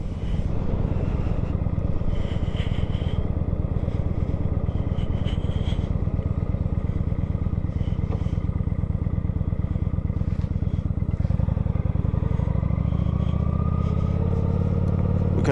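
A Kawasaki Vulcan 900 motorcycle rides along on a chilly outing, its engine a close, steady low throb with wind rush, rising briefly in revs near the end.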